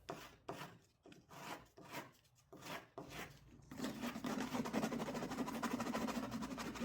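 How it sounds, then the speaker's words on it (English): The edge of a concave piece for a homemade Death Star model is sanded by hand, first in a series of rhythmic back-and-forth rubbing strokes, then in a continuous faint scraping. "I'll sand the edge of the concave piece while I think things through"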